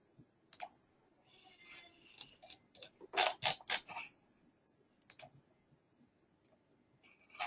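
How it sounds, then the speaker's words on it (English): A computer mouse clicks in scattered, quiet bursts, with single sharp ticks and quick clusters of clicks over a near-silent background. "So I'm just going to click out of this."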